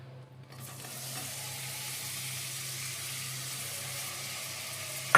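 Garam masala sizzles in butter in a pan on a slow flame, a steady soft frying hiss that starts faint and settles into an even crackle, ending with a brief clatter.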